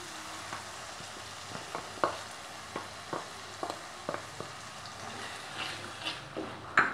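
Tomato paste being stirred into spices that were fried in oil, with soft irregular scraping and stirring taps over a faint steady sizzle, close and fairly quiet, with no voices.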